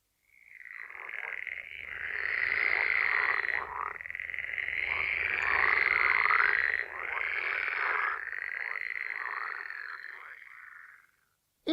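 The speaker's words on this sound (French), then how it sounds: "La grenouille." A frog croaks in a long, dense, continuous trill that rises and falls in loudness for about ten seconds, sounding alone and close with no talking.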